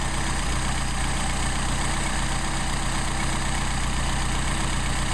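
Mercedes 190SL engine idling as its carburetor idle mixture is tuned, a loud, steady, even rumble that holds unchanged from start to finish.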